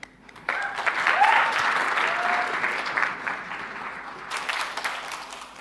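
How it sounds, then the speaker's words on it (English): Audience applause following pitches at a learning event, a burst of clapping that starts abruptly, swells and then holds steady as a sustained round. "Let's give those guys another round of applause."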